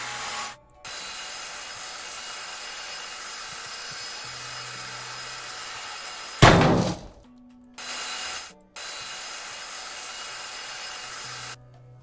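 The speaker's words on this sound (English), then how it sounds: "I need to grind the crap out of all these bits and pieces" Scrap pieces being ground in Ship Graveyard Simulator 2: a steady, fairly loud abrasive grinding drone that runs nearly the whole time, broken by short pauses and one sharp, heavier burst near the middle.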